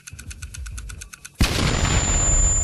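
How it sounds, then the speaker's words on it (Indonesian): A small car blows up on Linjiang Road with a sudden loud blast, after a stretch of quieter tonal sound. A dense, roaring noise follows and continues to the end. "Di Jalan Linjiang, sebuah mobil kecil meledak."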